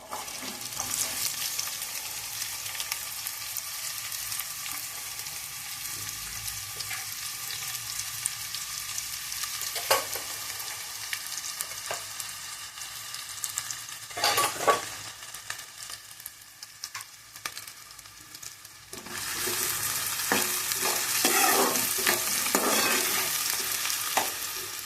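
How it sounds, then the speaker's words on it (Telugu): Onions and green chillies fry in peanut oil for chicken curry, a steady close sizzle broken by the scrape of a spoon against the pan, with a louder, brighter burst of frying near the end. "ఉల్లిపాయలు కాస్త వేగాలండి."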